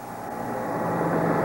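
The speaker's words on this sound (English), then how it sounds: "Thank goodness that was a helicopter that just flew by." A helicopter flying by, heard as a low, broad rumble that steadily swells louder over a second and a half as it approaches.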